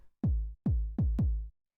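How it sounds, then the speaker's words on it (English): An unprocessed, punchy 909-style kick drum sample fires four quick booming hits in an uneven pattern, each with a crisp attack and a deep decaying tail, with no other sound. "Here's the original kick."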